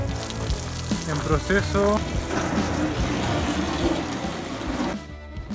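Water sprayed over newly installed camper van windows for a leak test: a dense, steady hiss and spatter of water hitting glass and metal, continuous and close, with brief speech over it, dropping away near the end.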